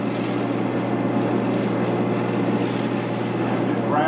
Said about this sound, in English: use a scraping cut